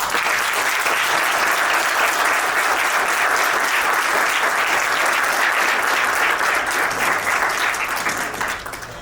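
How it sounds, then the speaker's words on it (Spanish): An audience at a breakfast gathering breaks into sustained applause for Marina, with dense, loud clapping that holds steady throughout and tapers off slightly at the end. "Aplauso para Marina."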